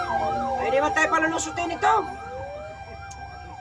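A wailing fire truck siren at a fire sweeps up and down repeatedly, fairly close, while a person speaks over it in the first half before the siren continues alone.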